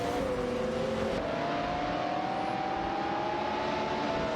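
Engines of racing cars in a video game, among them a Ferrari F355 Berlinetta F1 and a Nissan Skyline GT-R R34, drone steadily as one sustained tone rises slowly under a continuous wash of road and wind noise.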